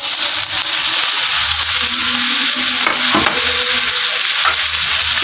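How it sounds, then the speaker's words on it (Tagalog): Jackfruit sautéing in a pan with chili, a loud continuous sizzle and hiss with occasional stirring scrapes, close and alone without talk. "Igisa natin maigi."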